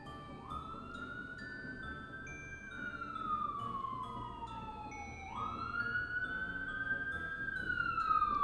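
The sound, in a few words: emergency vehicle sirens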